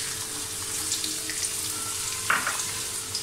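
Finely chopped onions fry in a pan for a Punjabi-style rajma masala, a steady broadband sizzle running throughout with one brief louder crackle or clink near the end, no voices.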